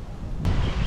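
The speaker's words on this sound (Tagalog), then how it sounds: "Sobrang lakas ng hangin." Strong wind buffets the microphone in a steady low roar that swells louder halfway through, with no voices heard.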